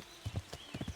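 Horse hooves clip-clop in the Kingdom Come Deliverance video game: two quick hoof strikes, a pause, then a faster run of four or five, close and fairly soft.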